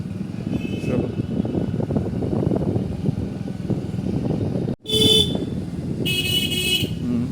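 A motorcycle horn honks during a bike training session: a steady engine and road rumble runs throughout, then after a brief dropout two bright horn blasts sound, one short and one longer, close by.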